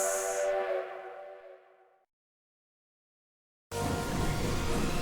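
Whistle summoning the Starflight Express train in Dragon Quest IX, a loud steam-train whistle that sounds and fades over two seconds, then silence before a burst of rumbling train noise.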